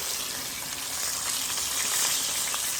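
Fish fries in hot oil for Samoan-style barbecue fried fish, a steady close hiss and crackle of sizzling with no talk over it.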